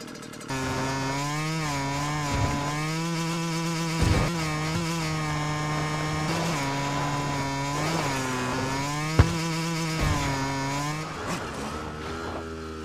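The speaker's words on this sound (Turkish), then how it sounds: "oyuna dağ ve eğimli yüzeylerde rahatça hareket etmemize olanak sağlayacak bir motorsiklet getiriyorlar" Dirt bike motorcycle engine in PUBG, holding a steady buzzing drone for the whole stretch, with pitch dipping and rising as the throttle shifts, close and loud with no voices.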